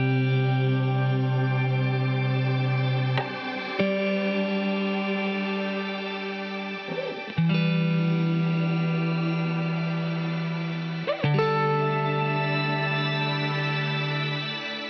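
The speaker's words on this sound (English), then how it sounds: "The shimmer reverb" Sustained guitar chords ring out through the shimmer reverb of a Line 6 HX One effects pedal, each swelling and sustaining for several seconds before the next change, with no talking.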